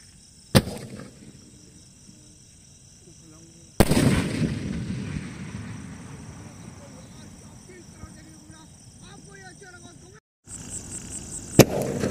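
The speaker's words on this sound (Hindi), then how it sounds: "तो लगाते हैं इस पिंक आउट को आग और देखते हैं ये कैसा चलता है।" A pink fireworks shot is lit and goes off outdoors, with sharp loud bangs at the start and again near the end and a sustained crackling, fizzing burst in between, while people talk through it.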